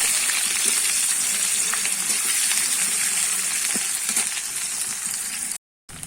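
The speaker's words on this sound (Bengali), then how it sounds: "পেঁয়াজ কুচিটা দিয়ে দেবো একটু ভালো করে আমি পেঁয়াজটা ভেজে নেবো" Chopped onions frying in a pan, giving a loud, continuous hissing sizzle that runs almost unbroken before cutting out briefly just before the end.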